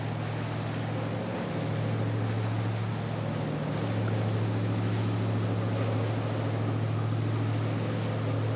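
A small boat's motor drones steadily and low throughout as it passes through the Point Pleasant Canal, with faint water and wind noise around it.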